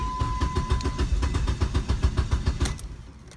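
An SRT4 Neon with a new Walbro 255 LPH fuel pump cranks as the fuel system is primed, a loud rhythmic chugging of the starter turning the engine over repeatedly before it winds down, with no voices.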